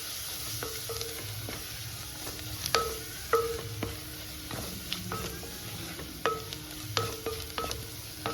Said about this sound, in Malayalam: ഒരു ടീസ്പൂൺ മല്ലിപ്പൊടി ഒരു ടീസ്പൂൺ മുളക് പൊടി ഇത്ര ഇട്ടിട്ട് നല്ലവണ്ണം ഒന്ന് ഇളക്കി കൊടുക്കാവേ